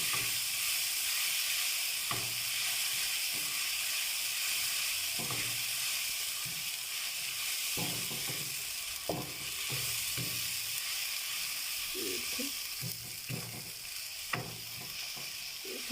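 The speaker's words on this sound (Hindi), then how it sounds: "इसको थोड़ा सा फ्राई करते हैं।" Garlic and ginger paste sizzles steadily in hot oil in a karahi, a continuous frying hiss with scattered spoon scrapes and stirring knocks throughout, no voices.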